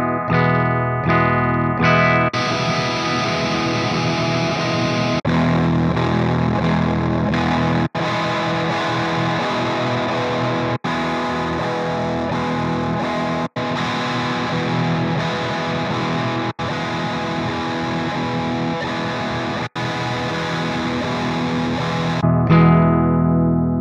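An electric guitar played through an Axe-FX III rings out with distorted, effects-laden chords, its tone shifting abruptly several times as amp scenes are switched in quick succession, with no talk.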